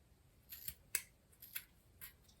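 Regular scissors snip through a hair loc, four or five short crisp cuts spaced about half a second apart, close and quiet with no talking.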